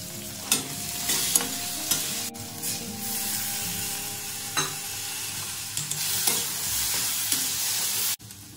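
Black cumin seeds and tomato sizzle steadily in hot oil in a pan for a simple thin potato curry, with a few sharp stirring clinks and scrapes over the continuous frying hiss.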